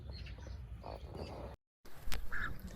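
A mother duck gives a few soft, close quacks near her ducklings, short nasal calls separated by brief quiet gaps.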